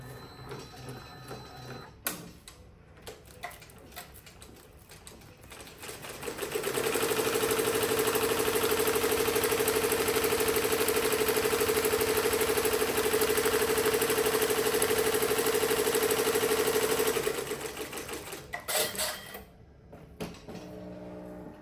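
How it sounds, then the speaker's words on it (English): A Bai multi-needle embroidery machine runs one quick tack stitch on an in-the-hoop embroidered bag. It gives a steady, loud mechanical whir and hum for about ten seconds, with faint handling noises before and after. "let's do one quick stitch"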